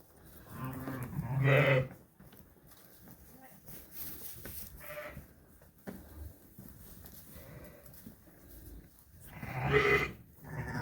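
Sheep and lambs in a lambing barn, a ewe with her two lambs nearby: two loud bleating bursts near the start and end, with quieter animal murmurs and faint talk in between.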